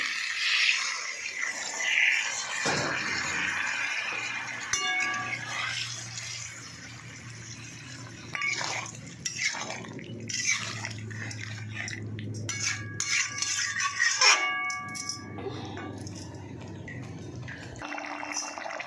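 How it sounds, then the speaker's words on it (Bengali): Water is poured into a cooking pot of egg and soya chunk curry, a steady splashing stream running for several seconds, followed by lighter trickles and a few metal clinks from the pot and utensils. "এবারে জল ঢেলে দেবো"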